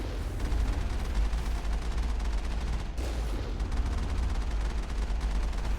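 Continuous rapid Gatling gun fire with missile launches in the video game Mass Effect, a dense loud rattle running steadily with a slight break near the middle.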